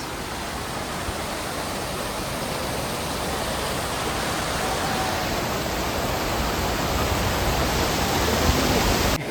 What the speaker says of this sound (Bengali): এই হলো কিউখোলা ওয়াটারফলস।